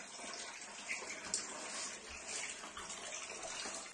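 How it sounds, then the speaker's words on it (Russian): Water drained from a sagging suspended ceiling in an apartment after a roof leak, a continuous splashing gush pouring into a container nearby, steady with small surges and no talk. "Сливаем воду с потолка."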